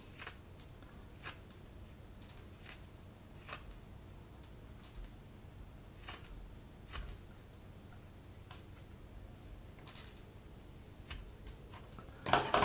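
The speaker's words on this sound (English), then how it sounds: "start from one corner, and just kind of cut upwards at a little bit of an angle" Scissors cut upward at an angle through a soft plastic fishing lure tail to make a floppy tail, giving sparse, quiet, close snips and clicks spread over several seconds with a louder snap at the end.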